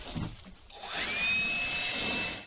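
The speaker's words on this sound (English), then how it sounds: "actually I'm going to hit this with the blower." A leaf blower starts up and blows steadily across a timber frame solar mount, a broad rushing roar with a rising whine that holds for over a second before tapering off, preceded by faint rustling.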